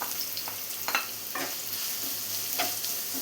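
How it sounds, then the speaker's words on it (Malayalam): Sliced onions frying in hot oil with garlic and dried chillies, a constant soft sizzle with a few stirring scrapes, close and alone. "ഈ സമയം 2 സവാള സ്ലൈസ് ചെയ്ത് വെച്ചതും കൂടി ചേർത്ത് കൊടുക്കുന്നുണ്ട്."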